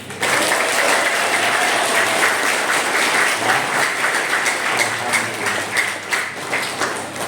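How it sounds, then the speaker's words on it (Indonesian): A large audience claps together at a Ramadan religious gathering, loud and continuous dense applause that swells briefly then tapers slightly, heard close and without talk. "maka tepuk tangan"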